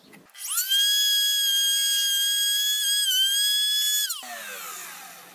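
A rotary cutter slices through a GameCube console case with a loud, shrill, steady whine that starts abruptly, holds for about four seconds and then cuts off into a fading rattle.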